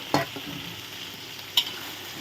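Thai eggplant stir-fried in a wok for a crispy catfish dish, a soft continuous sizzle with two sharp clanks of a spatula against the pan, one early and one near the end.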